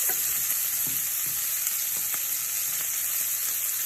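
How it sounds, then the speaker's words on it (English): Garlic, ginger, chili and onion sizzle steadily in a hot pan, a constant close frying hiss with faint stirring clicks and no voices. "I'm going to add in the aromatics, which is the garlic, the ginger, the chili, the onion. Gonna sweat that really quick."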